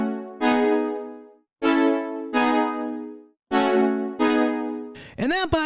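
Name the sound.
synthesizer brass with strings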